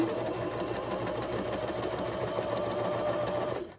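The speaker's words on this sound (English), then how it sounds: "I'm going to sew this together at a very scant 1/4 inch is what I'm going for." A sewing machine runs steadily, stitching patchwork fabric pieces right sides together at a scant quarter-inch seam for a Christmas bow, its fast mechanical whir continuous and close until it stops at the end.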